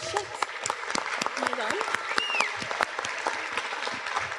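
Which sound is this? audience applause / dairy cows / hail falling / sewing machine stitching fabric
audience applause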